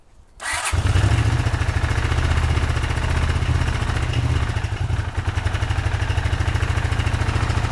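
A Honda CX500 motorcycle, left abandoned for 42 years with only 39 miles on it, starts after a short quiet moment. It then runs loud and close with a steady pulsing beat that falters slightly, as if missing a little.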